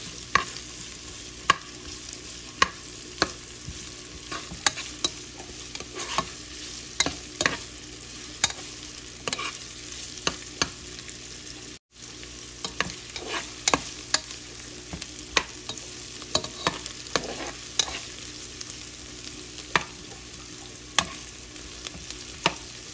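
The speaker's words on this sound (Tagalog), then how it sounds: "Hanggang sa medyo mag-brown yung onion." Onion stir-fried in a pan until browned: a quiet continuous sizzle broken by regular scraping, tapping strokes of the spatula across the whole stretch, with one brief dropout midway; no voices.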